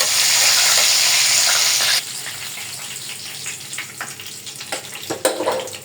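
Chicken pieces frying in a pan, a loud steady hiss of hot oil that drops to a softer sizzle partway through, with scattered pops and crackles close by.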